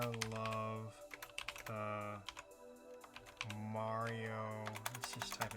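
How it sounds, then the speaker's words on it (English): Computer keyboard typing in a marketing software demo, quick irregular key clicks clustered in bursts over a steady musical background. "let's just type it lowercase"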